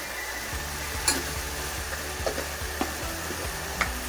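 Spices sizzling steadily in hot oil in a pan for an Indian vegetarian thali, a continuous close frying hiss with occasional faint clicks and taps of a spoon.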